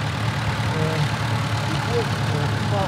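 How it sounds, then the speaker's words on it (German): A crawler tractor's four-cylinder water-cooled engine idles at a historic tractor rally in Sundhausen, a steady low throbbing drone that holds close and even throughout. "Vierzylinder, wassergekühlter Motor."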